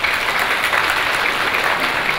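Audience applause at a Taoyuan business federation general meeting and anniversary event, a loud, steady wash of clapping from a large crowd that holds for the whole stretch with no voices over it.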